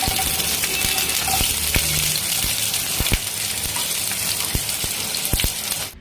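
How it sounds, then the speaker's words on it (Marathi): Mustard seeds spluttering in hot oil in a kadhai on a gas stove, a steady close sizzle broken by sharp scattered pops and crackles across the whole stretch, with no talk. "त्याच्यात मोहरी टाकायची."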